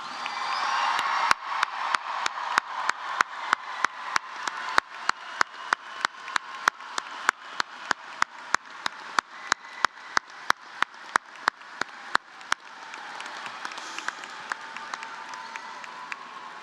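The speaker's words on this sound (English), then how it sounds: "please join me in applauding the class of" An audience at a 2025 technical-center certificate graduation ceremony applauds the graduating class, a broad wash of clapping with sharp, regular claps on top, fading after about twelve seconds into murmuring crowd noise.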